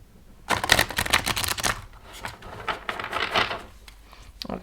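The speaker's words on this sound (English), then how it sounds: "I'm just going to shuffle one more time." Tarot cards riffled and shuffled repeatedly up close, a rapid flurry of papery flicks followed by softer shuffling bursts.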